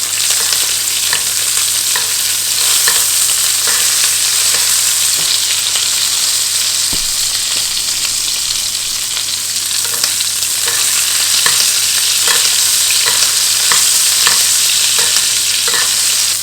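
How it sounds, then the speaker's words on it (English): Steak sizzles steadily in a hot pan while being basted, a loud continuous hiss and crackle with faint spoon scrapes and spatters throughout, no voices. "So basting the steak"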